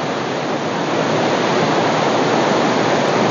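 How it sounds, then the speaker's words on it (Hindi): Gadgada waterfall in Raigada pours in a loud, steady, unbroken rush of falling water, close by and filling the whole scene without any voices. "देखंतु वाटरफॉल। गदगदा जलप्रपात रो व्यू।"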